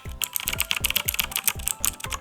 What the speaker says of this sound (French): c'est des switches qui sont tactiles et à clic, donc on entend clairement le clic